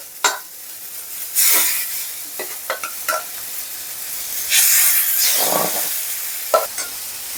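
Marinated chicken pieces sizzle steadily in a lightly greased pan while being placed and moved, with loud hissing bursts and occasional clinks of a utensil against the pan, close and without talk.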